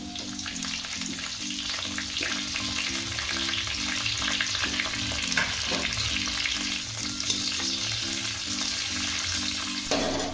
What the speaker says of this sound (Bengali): এবার আমি ক্যাপসিকামগুলো দিয়ে একটু ভেজে নেব।